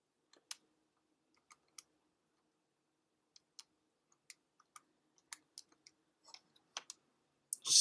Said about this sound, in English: if I type this into my calculator